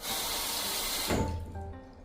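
A sensor-activated urinal flushes with too much water, so the overflow spills over the rim. The loud, close rush of spraying water cuts off abruptly, leaving a fading gurgle and hiss.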